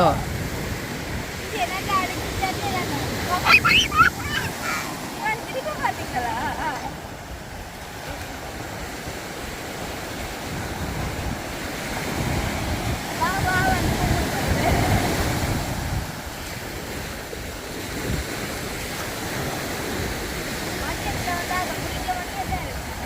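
Sea waves break continuously on the shore in a steady, rushing roar with some wind noise, swelling and easing slightly over the span.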